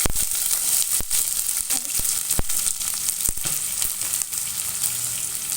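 Mustard seeds and onions fry in a hot pan with a steady close sizzle, scattered sharp pops and crackles from the seeds, and the occasional light stirring scrape.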